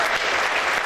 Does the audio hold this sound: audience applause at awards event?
yes